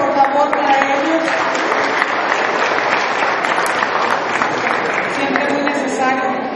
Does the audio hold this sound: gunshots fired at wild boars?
no